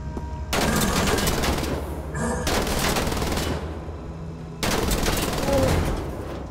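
Gunfire in the World War II shooter Wolfenstein: The Old Blood comes in three sustained bursts separated by short lulls. The shots are loud and dense, like rapid automatic fire.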